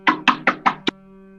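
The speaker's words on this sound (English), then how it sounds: "The parents knocked again." Five firm knocks rap on a door in quick succession, the last one lighter, close and loud with no voices.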